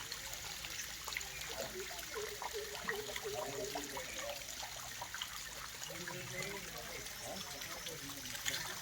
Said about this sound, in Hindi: यहाँ पे भैया रिकॉर्ड कर रहे हैं ये पालधारा पंचधारा को